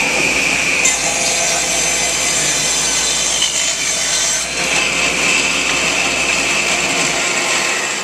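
A table saw runs loud and steady while cutting through wood, a continuous high whine and buzzing rasp that dips slightly as the blade bites the workpiece.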